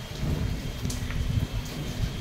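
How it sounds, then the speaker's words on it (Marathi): Light drizzling rain falls outdoors, a soft, steady patter with a low, broad background hiss and no voices. "पाऊस तर रिमझिम पडतो"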